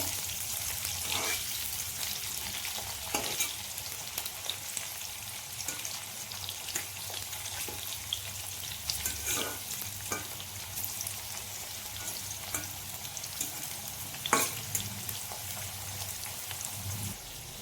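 Potato and vegetables frying in hot oil in a home kitchen, a soft continuous sizzle with scattered pops and crackles, gentle and close with no voices.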